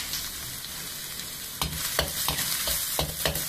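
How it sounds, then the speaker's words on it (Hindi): Garlic, ginger and chopped onion frying in already-hot oil for chilli mushroom: a loud close sizzle that turns busier halfway through, with repeated scraping stirs of a spatula against the pan, no talk. "ऑलरेडी तेल गरम है। अब हम क्या करेंगे, इस पहले इस पे डालेंगे हम लहसुन, साथ में डालेंगे अदरक"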